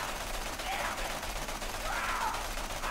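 Scav assault rifle fire in Borderlands The Pre-Sequel: a dense, continuous stream of rapid shots held at a steady level across the whole stretch, with a faint voice-like sweep mixed in.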